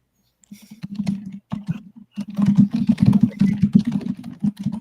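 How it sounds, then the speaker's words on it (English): Rapid clattering of computer keyboard keys picked up close beneath a microphone during a casual evening voice hangout, loud and busy with short pauses between bursts, with no talking over it. "Sorry, I forgot my mic is sitting right above the keyboard."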